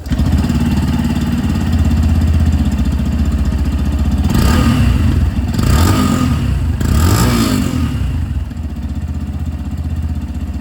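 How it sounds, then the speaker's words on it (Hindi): A Yamaha FZS Fi Hybrid motorcycle's engine idles steadily and loudly after a silent start, with a few short throttle blips in the middle. "मैं साइलेंट स्टार्ट कह रहा हूँ तो इसकी जो आवाज़ है ये भी आप लोग एक बार यहाँ पर सुन लीजिए।"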